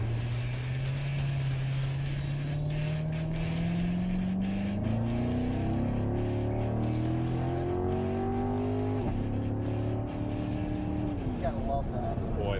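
A 2014 Chevrolet C7 Corvette in sport mode accelerates hard. The engine note climbs steadily, then drops at a gear shift before rising again, heard loud from inside the car.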